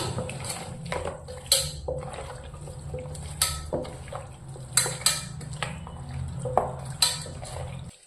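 Chicken is worked together with chili powder masala in a bowl, making soft wet squelches and repeated light clinks of a spoon or hand against the bowl, close by and unevenly spaced.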